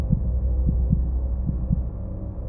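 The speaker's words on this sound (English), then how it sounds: "heartbeat in my ears" A heartbeat sound effect thumps in a slow, steady double-beat rhythm, low and muffled, repeating about four times, close and alone over a faint hum.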